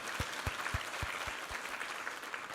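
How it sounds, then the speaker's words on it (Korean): Applause from a church congregation during a Sunday Thanksgiving worship service, a dense wash of many hands clapping with a few sharper claps standing out near the start, moderately loud and steady. "우리 하나님께 감사와 영광의 박수 올려드리겠습니다"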